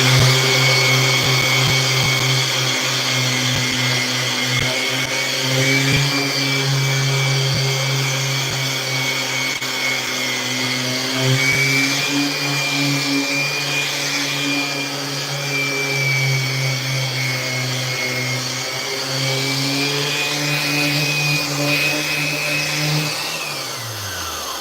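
A Festool shop vacuum runs steadily for the whole stretch in a skateboard-making workshop, a loud, constant whine with a high pitched tone that winds down as it switches off at the end, with no talking.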